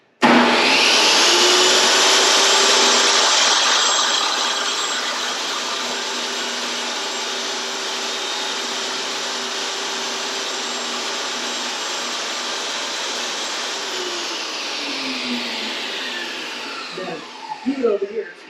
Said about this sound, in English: we're going to run this into the saw just till we hit that stop line.